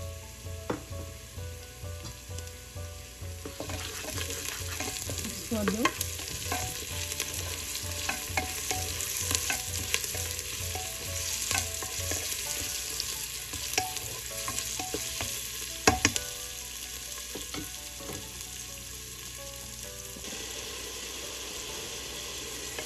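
Green chillies, a dried chilli and crushed garlic and ginger fry in hot oil, giving a steady, fairly loud sizzle with intermittent stirring scrapes and clatter throughout, with no talking.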